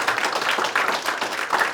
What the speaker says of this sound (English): please give them a round of applause or thank them as well too for their contribution